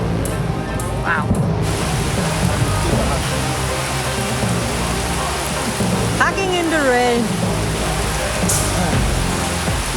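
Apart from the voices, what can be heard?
heavy rain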